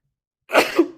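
A single sharp sneeze bursts out after half a second of silence, close and loud, fading quickly.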